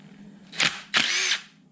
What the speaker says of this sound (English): electric impact for all these cover bolts